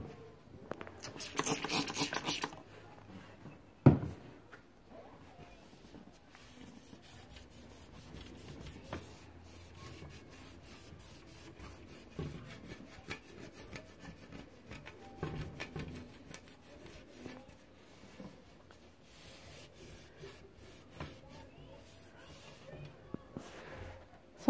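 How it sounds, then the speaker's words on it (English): Fingernails scraping dried milk off a wooden crib: soft, irregular rubbing and scratching that runs throughout at low volume, with a louder scraping burst near the start and a sharp knock shortly after. "sometimes you can just take your nails and scrape it off"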